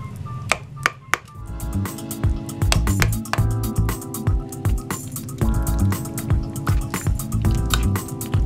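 Thawed, squeezed chopped spinach is stirred into a crockpot pork stew, giving continuous wet squelching and slopping with repeated clinks of a spoon against the pot, fairly close and steady throughout.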